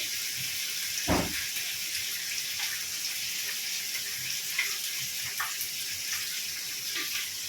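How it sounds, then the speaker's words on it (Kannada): Fresh green peas tipped into a hot frying pan set off a steady, bright sizzle of oil that runs throughout, with one clunk near the start as they land and small pops and crackles scattered across. "ಹಸಿ ಬಟಾಣಿ ಹಾಕ್ತಾ ಇದ್ದೀನಿ"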